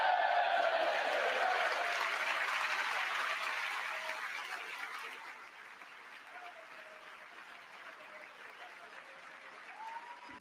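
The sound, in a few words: applause in Congress during Trump's speech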